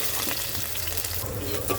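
Whole cumin seeds and bay leaf frying in hot oil as a tempering for egg curry, giving a soft, continuous crackling sizzle heard close up for a brief moment.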